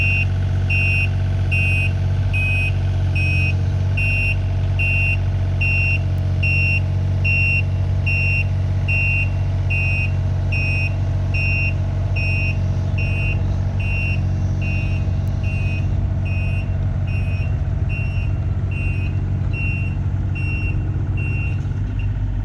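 A loud, steady engine drone from a Tamagotchi tractor working at half throttle to pull a stuck machine free while mulching a burned area, with a repeating reverse beeper pulsing throughout and no talk.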